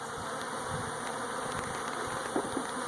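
Honey bees swarm around an opened hive on a farm, a steady close droning buzz with individual insects passing near, continuous and without speech.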